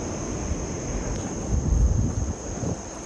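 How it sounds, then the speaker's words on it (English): Steady roar of surf washing onto a beach, with a low wind-like rumble that swells briefly near the middle. "the sound of the waves crashing on the beach"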